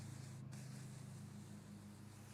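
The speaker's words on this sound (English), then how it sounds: "I'm gonna take and spray a little bit more on there" Cleaner sprayed onto a camper RV awning gives a steady, faint hiss with a low background hum, continuing without a break.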